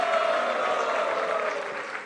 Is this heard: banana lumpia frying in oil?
no